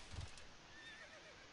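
A short horse neigh from the video game Civilization IV, a quick whinny burst at the start trailing into faint tonal game sounds, quiet and alone.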